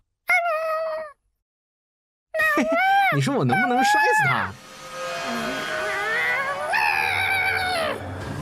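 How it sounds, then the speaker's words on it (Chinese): A single short, high kitten meow close by, then people talking over a noisy background. "快看，一只小猫！"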